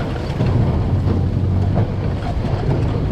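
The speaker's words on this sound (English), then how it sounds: "That excessive rattling that you probably hear back there is the dump bed on this thing" Dump bed on an ATV buggy rattling behind the rider while driving outdoors, a continuous rough clatter blended with engine drone and wind buffeting, steady and fairly loud throughout.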